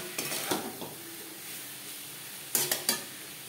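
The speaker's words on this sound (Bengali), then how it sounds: "মাছের সাথে কচুর লতি বেশ ভালো করে মিক্স করে দেব।" Prawns and taro stolons are stirred in a pan, with a few sharp scraping and clinking strokes of a utensil against the metal and a faint sizzle between them.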